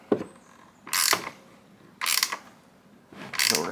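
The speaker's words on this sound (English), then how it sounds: "I got a 13mm wrench. We're just going to go, we're going to tighten these down real quick. Ratchet, I'm sorry, it's not a wrench." A 13mm ratchet tightens the terminal bolts on a portable power station in quick close rattling strokes, four short ratcheting bursts spaced about a second apart with quiet gaps between.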